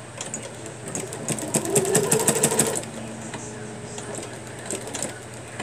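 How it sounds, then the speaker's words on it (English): A sewing machine stitches black and white log cabin quilt strips: a steady, fast mechanical whir that rises into a louder run in the middle, then drops back to a softer hum near the end. "So I'm gonna sew these down."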